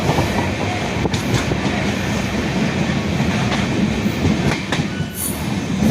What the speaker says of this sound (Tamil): முதல் பிளாட்ஃபாரத்தில் வண்டி நுழைஞ்சிடுச்சு.